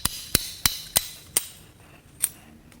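Sharp metallic hammer blows knock a pin out of a Mercedes OM642 3.0L V6 turbodiesel engine during teardown: five quick strikes in an irregular rhythm, then a lone hit after a pause, close and clear with no talk.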